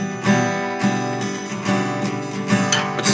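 Soft, gentle featherweight picking on an acoustic guitar, with light plucked notes ringing out in an even rhythm, close and clear, with no voice over it.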